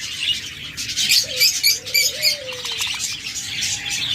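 Pet cockatiels, lovebirds and budgerigars in cages chirp in short, bright bursts with a few brief whistles, fairly faint and close by, over a low background hum.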